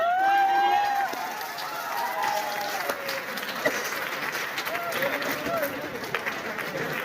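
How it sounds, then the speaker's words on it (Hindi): Audience applause at a business success-story event, steady clapping from a crowd running under a voice throughout. "एक बार जोरदार तालियां।"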